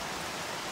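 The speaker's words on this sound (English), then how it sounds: "I don't know if you get to see it, but it's pouring down, trust me" Heavy rain pours down steadily during a hike on the Kungsleden trail, a dense, even hiss of drops that fills the whole short stretch with no voices.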